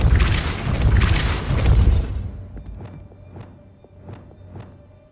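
Depulso, the force-push spell in Hogwarts Legacy, lands with a loud rumbling blast for about two seconds, followed by a quieter stretch of evenly spaced soft knocks and clicks.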